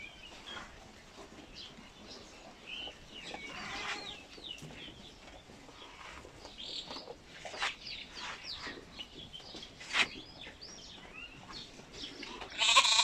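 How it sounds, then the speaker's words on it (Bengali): Goats bleat in an indoor shed at several points, with a louder call near the end, over low background noise and no talk. "দুম্বা না তো এটি ছাগল।"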